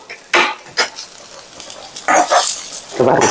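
Vegetables being sautéed and stirred until curled in a pan for a curd pachadi, with loud intermittent spatula scrapes and clanks over a soft, steady sizzle.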